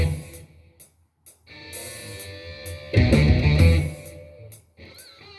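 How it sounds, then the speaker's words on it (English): A blues guitar introduction in E plays over a backing track, in short phrases separated by brief pauses. A denser, louder passage swells in the middle before lighter picked notes return. "So if I play just the introduction with the track now"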